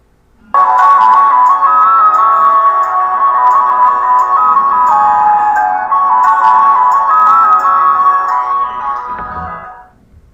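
A melodic ringtone plays loudly on an iPhone, a steady electronic tune held for about nine seconds and then fading out with nothing else audible.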